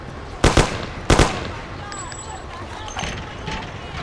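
Gunfire in the Mafia: The City of Lost Heaven game: two sharp, loud shots or short bursts about half a second apart, followed by quieter clatter, distant pops and brief voices.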